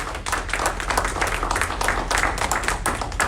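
A round of applause at a conference in Maryland: a room full of hands clapping loudly and steadily, with sharp individual claps standing out throughout, and no voices over it.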